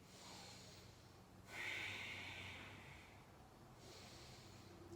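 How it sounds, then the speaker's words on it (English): Slow, audible Ujjayi breathing during a yoga bridge pose: a soft, hissing, ocean-like breath drawn steadily through the throat, close and quiet, with long even inhales and exhales. "You can practice your Ujjayi breath. If you remember what that is, that's the ocean or Darth Vader breathing"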